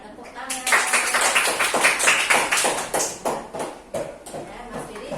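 A classroom of students claps hands together, a fairly close, lively burst of irregular clapping that thins out toward the end, with faint voices in the room.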